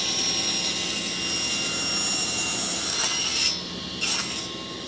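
Table saw with its blade raised about an inch cutting wood, a loud steady whine that drops off abruptly near the end, followed by brief softer bursts.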